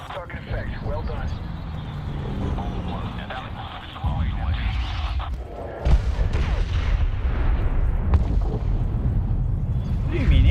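Cannon fire and explosions in the Medal of Honor video game, booming heavily over a constant roar of battle noise, with sharper blasts at about four and six seconds and radio chatter mixed underneath.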